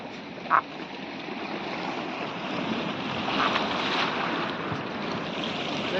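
Sea waves wash continuously onto the beach at Porbandar near Visavada village, a steady broad rushing surf with a gentle swell in the middle and one brief knock near the start.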